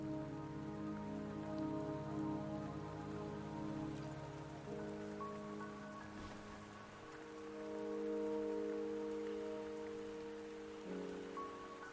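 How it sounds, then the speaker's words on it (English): Rain in the Wuthering Waves video game, a steady hiss of falling rain with soft patter on surfaces, continuous and even throughout, alongside sustained tonal background music and no voices. "Don't worry, the rain won't last much longer."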